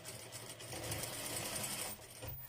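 A sewing machine runs steadily, stitching a ruffled hem on a baby dress close to the edge of the crinoline, a continuous close whirring hum with no talk.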